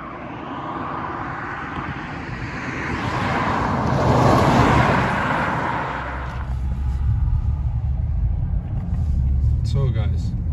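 A 2022 BMW 530d xDrive diesel sedan drives on the road, its engine and road rumble swelling and then settling into a steady interior drone, with a voice talking over it.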